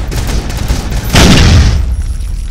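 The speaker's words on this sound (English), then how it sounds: "Big explosion!" A big explosion in the video game Retrovirus bursts in about a second in, loud and broad, then rumbles and fades over the next second amid steady game background noise.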